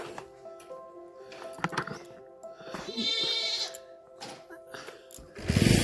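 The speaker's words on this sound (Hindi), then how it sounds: "बकरियाँ देखो" Goats bleat repeatedly in a village, several close, wavering calls spread across the scene amid light rustling and outdoor background, with no talk.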